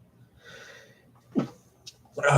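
A single close sneeze indoors, short and sharp, comes after a quick breathy intake, with a brief noisy burst trailing it.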